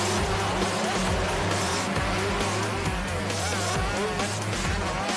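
Motocross bikes at the start of a race, a dense, loud roar of engines revving hard together, with a commentator talking over it.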